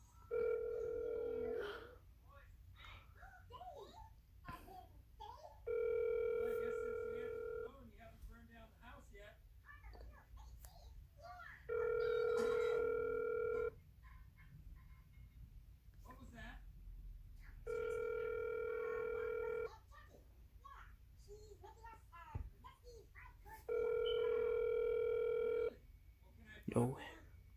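Phone ringback tone while placing a call, five steady repeating tone bursts of about two seconds with gaps, moderately loud over background chatter and room noise.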